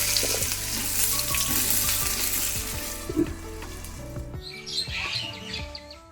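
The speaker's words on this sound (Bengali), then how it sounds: "এবার আলুগুলো ভাজতে বসিয়ে দিচ্ছি" Potatoes frying in hot oil make a continuous close sizzle with occasional stirring clicks, while faint bird chirps come through in the background and nobody speaks.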